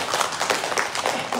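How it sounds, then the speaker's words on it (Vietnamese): Brief applause from the audience at a Buddhist lecture in a meditation monastery, a dense burst of many hands clapping together at moderate loudness. "Xin một tràng pháo tay."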